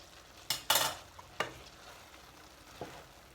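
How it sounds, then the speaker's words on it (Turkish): Boiled chickpeas being stirred into chicken pilaf in a pot, heard as a few brief scraping and rustling strokes against a faint background sizzle. "Hafifçe karıştırıyorum."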